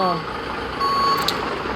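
A truck's reversing alarm in the driving game Truck Masters India, a steady electronic beep tone sounding over a low engine rumble with a brief higher chime near the end, while someone talks.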